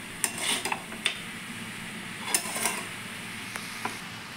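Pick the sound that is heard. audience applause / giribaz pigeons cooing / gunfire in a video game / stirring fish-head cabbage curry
stirring fish-head cabbage curry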